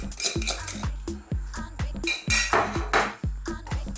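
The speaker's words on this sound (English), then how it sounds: "Let's pop our meat in" Lamb meat dropping into a Dutch pot with a little oil, heard as a rapid run of close metallic clinks, knocks and scrapes against the pot, with a soft sizzle building underneath.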